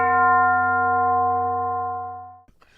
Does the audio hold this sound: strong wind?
no